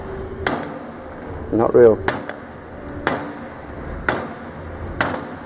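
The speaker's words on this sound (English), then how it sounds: "I'll strike down the half I want to move" Hammer blows on one half of a driveshaft from a 2010 Ford Ranger, struck to shift it: several sharp, ringing metallic strikes at irregular intervals, close and loud, with a brief spoken remark between them.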